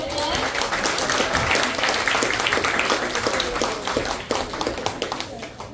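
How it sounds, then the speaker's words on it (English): Church audience applauding children, a dense burst of clapping that stays loud for several seconds then thins toward the end, with some voices mixed in beneath it. "give them another applause."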